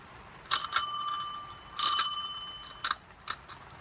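A vintage Lucas King of the Road nickel-plated brass bicycle bell rings in three or four close, bright bursts, each a ringing ting with a sustained metallic tone that fades between strikes, heard alone.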